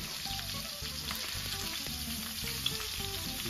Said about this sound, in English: Finish the searing process.